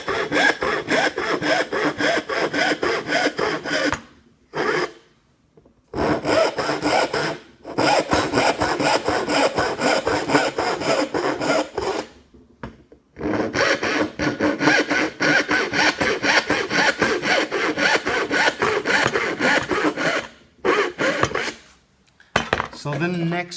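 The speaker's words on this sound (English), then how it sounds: "what you should hear when you're sawing is the saw should giggle back at you" A hand saw cuts through wood while shaping a towel holder, producing loud close rasping strokes in quick steady rhythm, broken by a few short pauses between runs of cutting.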